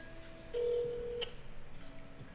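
A single telephone dialing tone sounds steadily for about a second while a phone number is called through a serverless Twilio door app, followed by a brief faint click.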